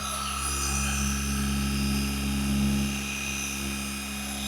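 Rupes HLR75 polisher running at speed 3, a steady droning whir with a strong low hum and a thin high whine, held near and even throughout with a slight swell midway.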